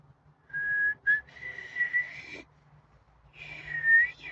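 A person whistles a short melody, with clear, sustained pitched tones in several phrases separated by brief pauses, close and fairly loud against a quiet background.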